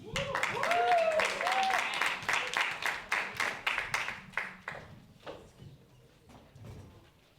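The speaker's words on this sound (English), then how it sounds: "keep your applause going for Jaime de Leon" An event audience applauds in a strong, even rhythm after a speaker's introduction. The claps are sharp and regular at first, then slow and fade toward silence, with a voice heard near the start.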